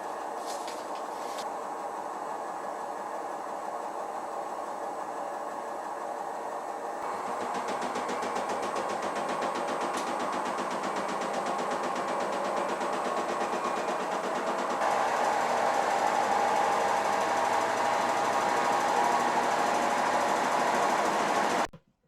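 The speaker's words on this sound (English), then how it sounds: "Bloody washing machine, Carol" A running washing machine makes a steady, loud mechanical whir and rattle that grows heavier in stages as the cycle changes, continuous throughout before stopping abruptly at the end.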